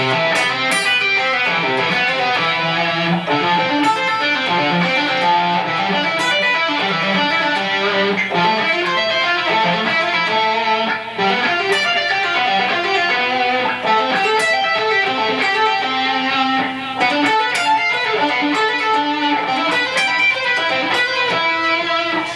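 An electric guitar plays a single-note major seventh arpeggio ascending and then descending, notes ringing clearly and evenly, played alone for about twenty seconds.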